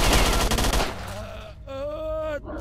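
Rapid burst of MP5 submachine gunfire in the video game STALKER, loud and close with dense repeated shots for the first second, then fading into a tonal ringing hum.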